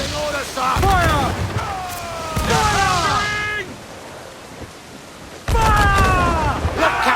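Cannon fire from ships in the Assassin's Creed 4: Black Flag naval combat game, loud booming blasts in several bursts mixed with shouted voices and game sounds.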